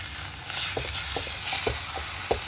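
Tomato paste and spices sautéing in a pan for egg curry, a steady close sizzle with soft stirring scrapes and a few brief clicks of a spoon against the pan, no voices.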